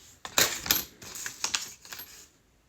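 Metal coins, including an old peseta and Polish coins, being handled and dropped onto a surface, several sharp clinks in an irregular sequence, close and bright, fading out at the end.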